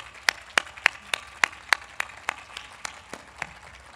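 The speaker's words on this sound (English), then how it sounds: "join me in giving all our applicants, our 3 finalists, and our winner one more round of applause" Sparse rhythmic clapping from a small audience at a youth of the year award event, about a dozen distinct claps at a steady pace, fading slightly toward the end, with no talking over it.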